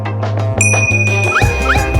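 A school bell gives a single bright ding that keeps ringing as a thin sustained tone, set among busy clattering sounds.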